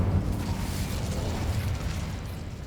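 An Incendio fire spell goes off in a PlayStation Harry Potter-style game, a steady loud roaring, crackling burst of flame with heavy low rumble that holds for the whole stretch.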